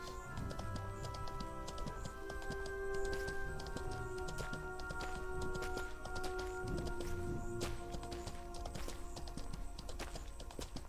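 Horse hooves clip-clop steadily in the online fantasy game Mortal Online 2, a light, continuous rhythm of taps set under sustained musical tones and game ambience.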